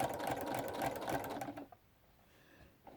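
A domestic sewing machine runs fast through a quilt during echo quilting, a dense close whirring rattle for about a second and a half, then stopping into near quiet.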